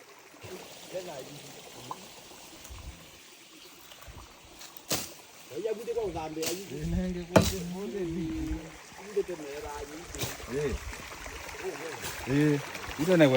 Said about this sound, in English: listening to the flow of water, just take a listen